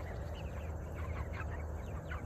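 Meat chickens cluck softly in a group against a steady low rumble of background noise, their murmured calls faint and scattered.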